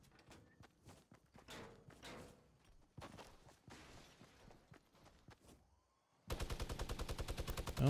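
Fortnite gunfire, a fast rapid-fire burst of loud shots near the end, after a stretch of scattered footsteps and softer in-game sounds.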